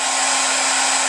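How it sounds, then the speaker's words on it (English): A hair dryer runs steadily to heat the front sight bushing of a Kel-Tec Sub2000 rifle, giving a loud, constant whirring blow with a hum. It sounds close and is heard alone. "I'm still running with the hair dryer"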